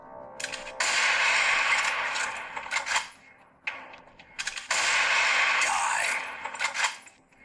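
Sniper rifle shots in the Garena HeadShot mobile game: two long, loud, bright blasts with ringing metallic tails, separated by a short gap, with no talking.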